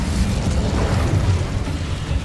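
An Incendio fire spell is cast in the Hogwarts Legacy video game, a dense roaring whoosh of flame with a burst-like rumble, loud and steady over its short span, with no speech.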